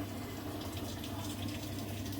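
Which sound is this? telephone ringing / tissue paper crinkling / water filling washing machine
water filling washing machine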